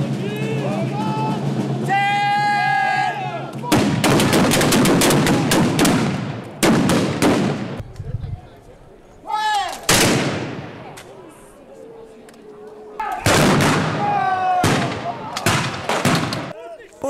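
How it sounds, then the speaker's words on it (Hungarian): Soldiers, hussars in a historical display, fire rifles in loud outdoor volleys, several ragged bursts of overlapping gunshots with echoing blasts, separated by crowd noise and a brief lull. "mindjárt el fogják sütni a puskájukat"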